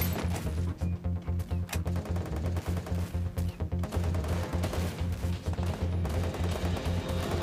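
Rapid gunfire in the Free Fire battle-royale video game rattles continuously in dense bursts, loud and close, layered over steady in-game background sound.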